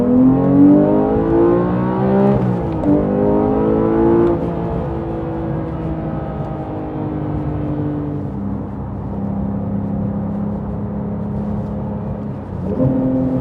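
A 2019 Porsche 911 991.2 GT3 Touring in sport mode accelerates hard in third gear, its engine rising to a loud sustained wail with gear-like pitch sweeps, heard close from inside the cabin without talk.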